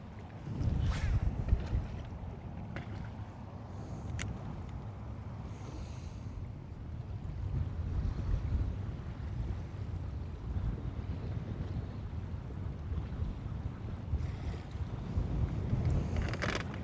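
Wind buffets a boat on Lake Guntersville, a steady low rumbling rush of wind noise with occasional bumps and water sounds, faint talk barely present.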